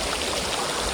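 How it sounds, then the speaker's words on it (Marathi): A scenic waterfall near Alibag rushes steadily, a dense, close, unbroken roar of falling water with no voices over it. "धबधब्यावर"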